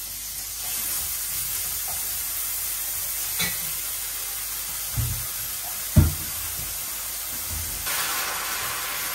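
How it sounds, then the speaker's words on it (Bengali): Green chili, turmeric and salt sizzle in a hot pan with a steady loud frying hiss, close by, broken by a few soft knocks and clatters of cooking. "এখন দিয়ে দিব কাঁচা মরিচ ও হলুদ লবণ। এই যে মরিচ দিয়ে দিলাম"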